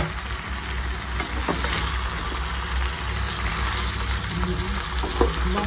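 Crabs in coconut milk bubble and sizzle steadily in a pan while being stirred, a close, continuous frying hiss with occasional soft clicks of the spoon and no talking.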